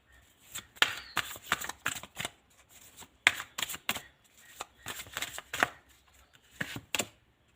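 Playing cards being shuffled and handled during a tarot-style reading, a close run of crisp riffling flutters and soft slaps in irregular bursts, with no voices.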